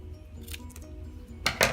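Scissors cutting through a matchbook, with a couple of quick snips and small clicks of the blades in a quiet room, the last snips sharp and close.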